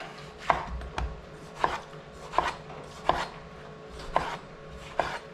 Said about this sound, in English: When you're cutting tomatoes, you always want to have your knife very sharp.